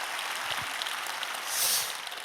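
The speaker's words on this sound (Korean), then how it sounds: "우리 주님께 영광의 박수 올려드리겠습니다" A church congregation at a summer Holy Spirit gathering breaks into steady, dense applause that swells slightly toward the end, with no voices standing out.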